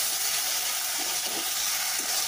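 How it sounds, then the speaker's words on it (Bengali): Vegetables frying in a wok after a little water is added, a steady broad sizzle with faint stirring clinks, moderately quiet and without talk. "পানিটি দিয়ে আপনারা একটু নাড়াচাড়া করবেন।"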